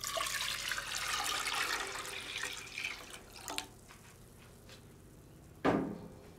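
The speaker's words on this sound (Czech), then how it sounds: "Naleju k ním vodu." Water pours steadily into a pot of rinsed pearl barley for a few seconds, then tapers off, followed by a couple of light clinks and a sharp metallic knock near the end.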